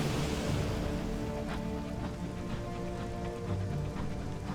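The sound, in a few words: rain in the video game Sunless Skies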